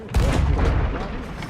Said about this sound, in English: I hope that's our ship shooting cannons.